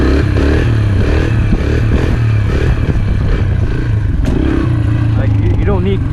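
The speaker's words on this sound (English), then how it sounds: "This is why the TTR is amazing for wheelies." A Yamaha TTR dirt bike engine revs for a wheelie, its buzzing, rising and falling note running continuously with rattly, scraping mechanical noise, loud and close throughout.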